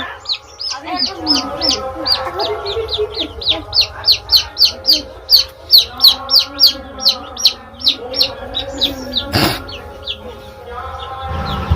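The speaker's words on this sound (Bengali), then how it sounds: "মা এ দেখো মুরগি নিচ্ছে" Chickens at a home during a temple festival in the Sundarbans, South 24 Parganas, give a close, steady run of short, repeated clucking calls, with faint voices and background noise underneath.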